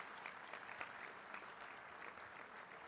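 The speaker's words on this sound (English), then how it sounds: "Can we please give him a big round of applause?" A faint, steady wash of audience applause at a mayors' climate protection awards luncheon, greeting the host mayor, Buddy Dyer, heard distantly and evenly for a few seconds.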